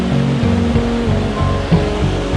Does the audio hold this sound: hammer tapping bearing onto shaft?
no